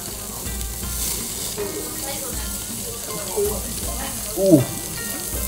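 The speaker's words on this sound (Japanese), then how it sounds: "これ大火事、皮目からね、焼くのね。" Meat sizzling skin side down on a yakiniku grill at a downtown grill restaurant, a steady close crackle and hiss running throughout, with brief exclamations and chatter from diners over it.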